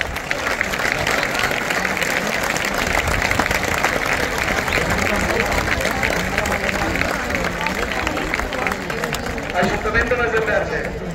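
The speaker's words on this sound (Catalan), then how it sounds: "Un fort aplaudiment." A crowd claps vigorously at a recognition ceremony during the Festa dels Bous in Masdenverge, a thick continuous applause with a murmur of voices and cheering mixed in throughout.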